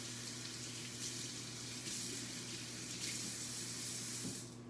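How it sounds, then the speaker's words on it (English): Tap water runs steadily into a kitchen sink as vegetables get a quick rinse, a faint continuous splash with a low hum underneath and no speech. "I'm just gonna give it a quick rinse"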